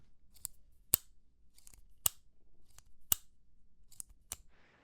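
A series of sharp metallic clicks and clacks, close up, in pairs and small groups, as a Tactile Turn bolt-action pen's bolt is worked back and forth.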